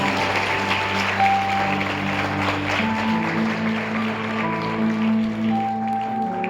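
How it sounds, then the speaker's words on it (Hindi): Congregation at a Hindi-language church holy communion meeting clapping together in worship, a steady dense wash of applause under sustained organ or keyboard tones throughout. "तालियां बजाकर महिमा करें परमेश्वर की सत्ता में।"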